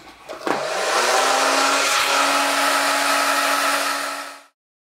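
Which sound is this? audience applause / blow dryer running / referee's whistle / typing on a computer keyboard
blow dryer running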